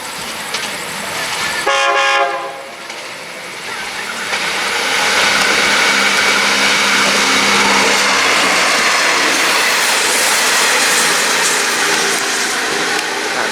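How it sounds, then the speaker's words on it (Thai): An express diesel passenger train from Chiang Mai to Bangkok runs through Chiang Rak Noi station, its horn sounding briefly before a loud rumbling roar with wheel clatter builds and holds as it passes close by. "ขบวน 8 นะครับด่วนพิเศษดีเซนลานะครับ เชียงใหม่ กรุงเทพ อภิวัฒนะครับกำลังเข้ากำลังผ่านสถานีเชียงรากน้อยนะครับ"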